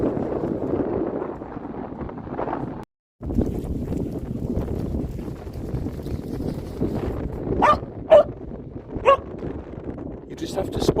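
A dog barks several times in short sharp bursts near a rocky shore, loud over a constant roar of wind buffeting the microphone.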